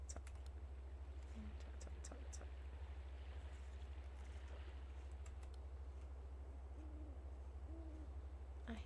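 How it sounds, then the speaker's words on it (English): An owl hoots in a video game, a few soft, low, brief calls scattered over a constant electrical hum, with sparse keyboard clicks and quiet background sounds. "I hear the owl."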